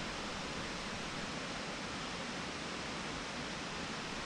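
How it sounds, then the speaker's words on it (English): The 150-foot High Falls waterfall in Dupont Forest, North Carolina, rushes as a steady, even wash of falling water heard from the trail above, constant and unbroken throughout. "You can view this 150 foot waterfall from the main trail above"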